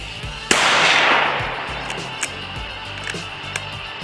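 A single loud, close gunshot cracks sharply and rolls off in a fading tail, followed by quiet outdoor ambience with a few faint clicks.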